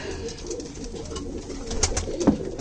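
Soft pigeon cooing, a low throaty burble repeating over faint background noise.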